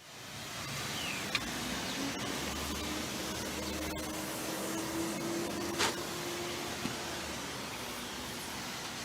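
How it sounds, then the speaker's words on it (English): A small pressurised pump sprayer applies diluted all-purpose cleaner around a car's wheel arch and suspension, producing a continuous close hiss that holds steady for several seconds, broken by a few faint clicks. "was liberally applied to everything apart from the painted calipers with a small pressurised pump spray"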